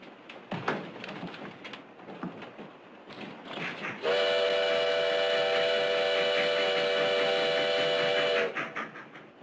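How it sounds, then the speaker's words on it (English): A train rumbles along with clattering wheels, then a long steady whistle blows for several seconds before the rolling noise resumes. "The train goes so fast."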